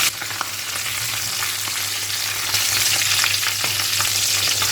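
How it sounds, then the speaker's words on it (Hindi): Potato cheese balls fry in hot oil, a loud continuous sizzle and bubbling hiss with occasional clinks and scrapes as they are stirred, no voices. "तो बस इसे गोल्डन ब्राउन होने तक हमें फ्राई करना है और साथ साथ इसको इस तरह से हिलाते रहना है"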